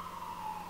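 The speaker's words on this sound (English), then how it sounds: "ambulances come around when I'm filming" A faint wailing emergency siren drifts in from outside, a single sustained tone holding steady over a brief moment, distant and low in level with no talking.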